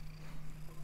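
A house cat purring close by, a soft, steady low rumble that holds throughout, quiet and alone with no talking.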